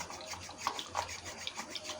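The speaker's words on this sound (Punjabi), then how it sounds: "ਦਹੀਂ ਨੂੰ ਆਪਾਂ ਮਧਾਣੀ ਦੇ ਨਾਲ ਰਿੜਕ ਲੈਨੇ ਆ" A wooden madhani churns two cups of cold yogurt in a bowl, giving a steady, rhythmic swishing and rubbing with soft scraping pulses, close and fairly quiet, with no voices.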